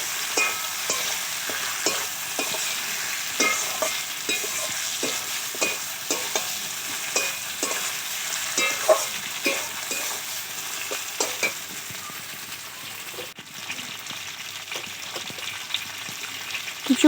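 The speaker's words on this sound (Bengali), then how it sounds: "এখন সবগুলোকে আবারও ভালো করে মেশাতে হবে" Chicken curry with garlic stirred in a pan in a village-style kitchen, with a steady sizzle and rhythmic scraping strokes of the spoon, close and moderately loud.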